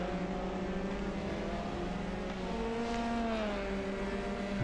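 Formula 3 race cars at Montreal in iRacing, engines droning and shifting pitch together at steady high revs, faint and continuous, with no talk over them.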